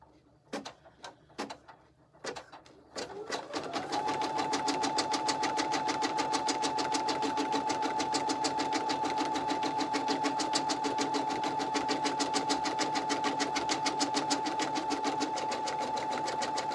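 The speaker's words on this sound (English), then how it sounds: "I'm gonna stitch down" An embroidery sewing machine stitching an elastic bottle band in the hoop, starting after a few clicks and then running in a fast, steady, rhythmic needle patter with a high whine, close by.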